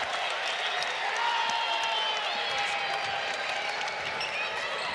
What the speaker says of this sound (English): she gets her senior night applause